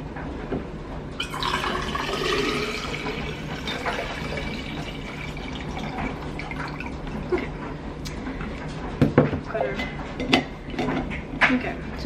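Water pours from a filter pitcher into a Stanley tumbler, a steady broadband rush that runs through most of the clip with a few louder splashes and clinks near the end.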